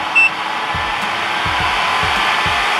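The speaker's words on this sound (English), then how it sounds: "I think on low, this is what my old dust collector sounds like." A MelodySusie nail dust collector runs on its low setting with a constant, steady fan whoosh and airy hum, close and fairly loud, with a few faint low thumps underneath.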